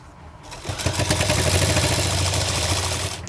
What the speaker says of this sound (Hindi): इस पट्टी को हम बाहर की तरफ रखते हुए एक सिलाई और लगाएंगे